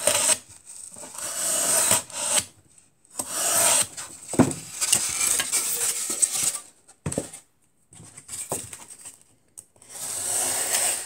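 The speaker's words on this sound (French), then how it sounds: "je l'aligne et je découpe le surplus." A blade cuts away excess material from a diorama base in repeated close, scratchy rasping strokes with brief pauses between them, loud and dry, with no voices.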